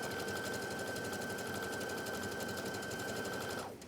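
A sewing machine stitches a curved seam on pants fabric, running in one steady close whir with a constant high motor tone for several seconds before winding down at the end.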